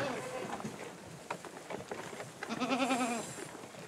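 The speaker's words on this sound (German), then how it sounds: "Les chèvres sont parfaitement adaptées à la garrigue." Goats in the Provence garrigue give a few wavering bleats, the last and clearest rising above a busy outdoor background of rustling and movement.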